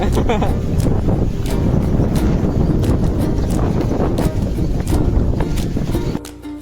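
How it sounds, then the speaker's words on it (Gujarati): Strong wind on a beach roars and buffets the microphone in a constant heavy rush, with faint voices beneath, until it drops off near the end. "પવન બહુ છે, પવન બહુ થઈ ગયા"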